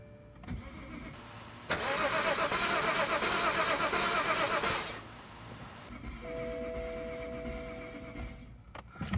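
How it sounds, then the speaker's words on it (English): A BMW 535xi wagon that has been sitting a while is cranked, the starter churning loudly for about three seconds without catching, then a quieter whir and electronic chimes follow, with no talking. "Let's give it one more crank."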